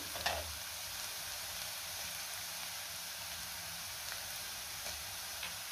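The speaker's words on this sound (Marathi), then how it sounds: "कांदा मी 2 मिनिटं परतून घेतलेला आहे। आता आपल्याला ह्यामध्ये आलं आणि लसूण घालायचं आहे" Onion, ginger and garlic fry in a pan for a dhaba-style paneer curry, a continuous, even sizzle heard up close with occasional soft ticks and no voices.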